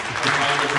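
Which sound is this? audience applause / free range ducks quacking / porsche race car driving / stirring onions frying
audience applause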